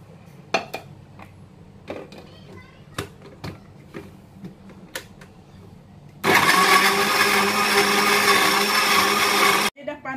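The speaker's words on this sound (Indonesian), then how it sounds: "Kita akan kisarkan semua berbahan ni sampai lumat ya." Light clatters and taps of ingredients being handled come first, then an electric blender roars loudly for about three seconds, grinding ginger, shallots and onions into a paste before cutting off abruptly.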